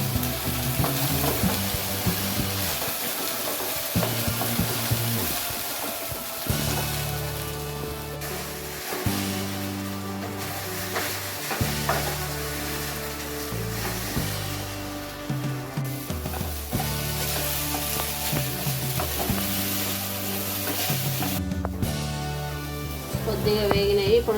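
Okra (lady's finger) sizzles steadily as it fries in hot oil, a continuous crackling hiss that runs through the whole stretch beneath prominent tonal background music.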